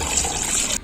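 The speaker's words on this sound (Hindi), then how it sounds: "और घर में एक पानी आउ धो लेथन हमन" Water gushes steadily while chopped broiler chicken pieces are rinsed at home for cooking, a short, loud and continuous running-water rush with no voices.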